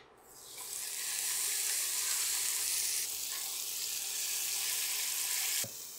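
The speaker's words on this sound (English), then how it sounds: "Now I'm gonna use just a little bit of ghee to sear these in." Pork chops sear in ghee in a hot pan, giving a loud, steady sizzle that starts suddenly and holds close and even for several seconds before dropping slightly near the end.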